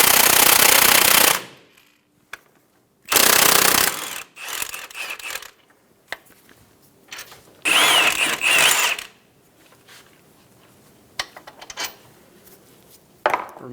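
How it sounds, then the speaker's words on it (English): Power tool with a 21mm socket removing caliper bracket bolts on a 2007-2017 Ford Expedition, running in several loud bursts of one to two seconds, with quieter clanks and handling noises between them. "Using a 21mm socket, we're going to remove the caliper bracket bolts."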